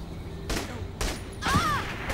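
Gunfire in the video game Saints Row: The Third: three or four quick shots spread over two seconds, moderately loud, with game background sounds between them.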